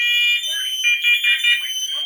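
A combined smoke and carbon monoxide alarm runs its self-test: a loud, piercing steady tone, then a synthetic voice announces the test over pulsing electronic beeps.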